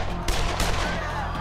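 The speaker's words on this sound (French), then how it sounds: "de terribles coups de feu retentissent" Two sharp, loud gunshots ring out amid a crowd during the 1981 attack on Pope John Paul II, each a hard burst with a brief ringing tail over a rumbling background.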